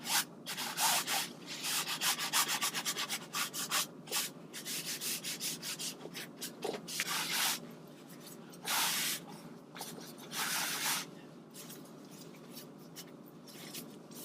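Wet painted sky area of a lighthouse landscape painting being rubbed with a blue automotive towel, giving repeated close scrubbing and wiping strokes in uneven bursts with brief pauses between, no talking.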